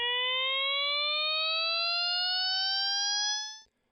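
A synthesized tone from an RTcmix script, its position swept back and forth between left and right by an LFO, held as one steady, slowly rising pitch that cuts off abruptly after a few seconds.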